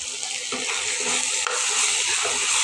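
Lentils fry in a pan on an electric stove with ginger just added, a continuous close sizzle with faint stirring scrapes and one small knock, no voices.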